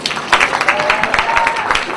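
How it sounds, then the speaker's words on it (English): Audience applause for a speaker coming on stage at a Muslim Business United event, a dense burst of clapping from a crowd, steady and fairly loud throughout. "Come on. Big round of applause."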